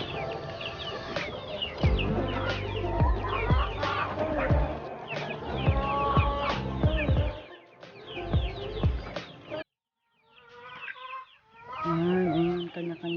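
Free-range hens and chicks on a farm, clucking and cheeping with overlapping calls close by, a continuous busy chorus with a brief break before resuming.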